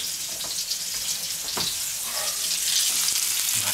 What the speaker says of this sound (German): brutzeln die Haut noch mal richtig schön auf